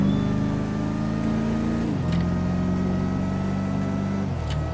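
A car in GTA 5 roleplay speeding up, a loud steady engine drone that steps up in pitch through gear changes, close and continuous with no talk.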